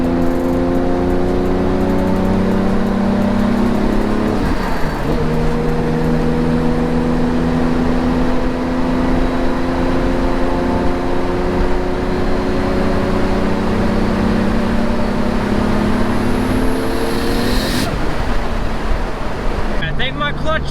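A car engine pulls hard in fifth gear at night, a loud droning roar rising steadily in pitch for several seconds, dipping at a shift, then climbing again under constant road and wind noise.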